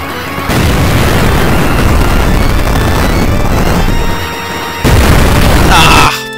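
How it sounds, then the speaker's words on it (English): Wall-mounted rockets explode in the video game Duke Nukem 3D, a loud, sustained rumbling barrage that drops briefly and then bursts again before cutting off. Someone talks over parts of it. "Ah, bloody wall rockets."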